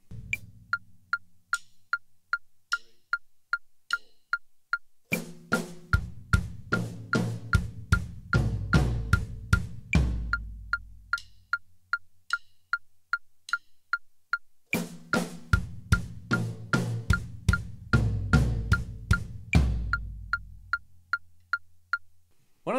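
Drum kit fill moving across snare, toms and floor tom in eighth-note triplets, loud rapid hits in two repeated phrases, underpinned by a steady metronome click ticking throughout.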